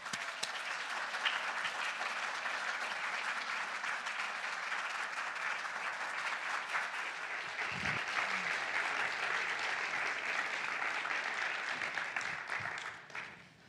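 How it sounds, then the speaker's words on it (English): Audience applause at a Litquake literary festival event in San Francisco as guests come on stage, sustained even clapping from a seated crowd that carries on for many seconds before tapering off at the end. "I'm sure all that applause is for me."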